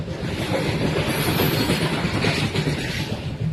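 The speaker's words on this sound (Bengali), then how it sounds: "তো যাই হোক ট্রেন যাচ্ছে" A train rolls past at night, a loud continuous rumble with rattling wagon wheels and clatter throughout, close by.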